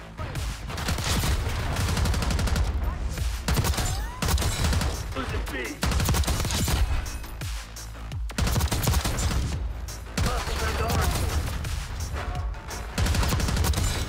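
Sustained automatic rifle fire from a GPR 91 in Black Ops 6, dense rapid bursts running nearly continuously with brief gaps, loud and close, layered with game effects and occasional voice.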